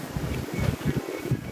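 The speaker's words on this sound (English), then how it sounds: "Oh, it's getting a little breezy, a little windy." Outdoor wind gusts buffet the microphone during a walk in Pu'er, China, producing uneven low rumbling bursts and a soft airy hiss, fairly faint, with no voices.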